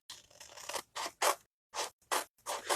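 Scissors cut apart paper tags in a series of close, crisp snips, each a short scratchy burst separated by brief silences, in an uneven rhythm.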